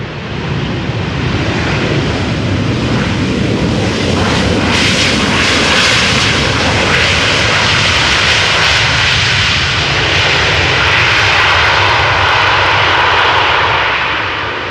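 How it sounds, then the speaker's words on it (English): Roaring, sustained engine noise from a 23-year-old Corendon Airlines Boeing 737 landing at Amsterdam Schiphol with thrust reversers deployed, a loud broadband jet rumble that swells and holds steady throughout without voices. "this one definitely used its reversers and it made a lovely sound"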